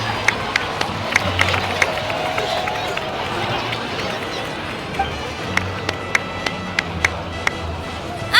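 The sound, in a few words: crowd applause in video game Genshin Impact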